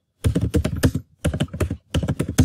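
Close, loud typing on a computer keyboard in three quick bursts of rapid clattering keystrokes separated by short pauses, with no voice over it.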